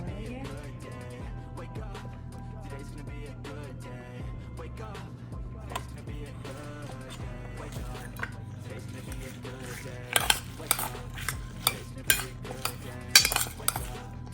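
Meatloaf ingredients being mixed in a bowl make soft, continuous stirring over a steady low background hum, with sharper clinks of utensil against the bowl bunching up near the end.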